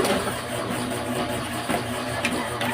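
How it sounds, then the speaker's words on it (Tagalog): An electric fan runs noisily throughout in a room during electrical wiring work, a steady broadband whir with a low hum and faint clicks. "Pasensya na kayo kung maingay yung electric fan kasi mainit."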